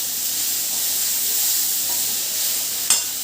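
Grated beetroot sizzles steadily in a hot frying pan, a dense continuous hiss with soft stirring scrapes and one brief sharper clink near the end.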